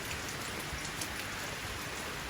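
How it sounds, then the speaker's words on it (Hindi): Heavy rain pours down in Sangkhlaburi, Thailand, in a dense, steady hiss, with no voices and no pauses. "बहुत धुआंधार ताबड़तोड़ बारिश पड़ रही है"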